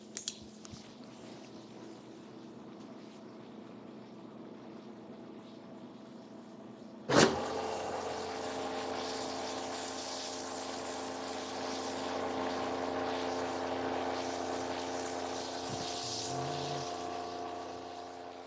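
A Henkelman Polar 80 vacuum packing machine pump running correctly: after a quiet hum, a sudden clunk starts a steady, loud mechanical whir and hiss that continues evenly without talk.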